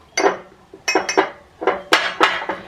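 A whisk clinks against a measuring cup as cornstarch is stirred into a stout ice cream mixture, making short, close bursts of metallic tapping in an uneven rhythm with no talking.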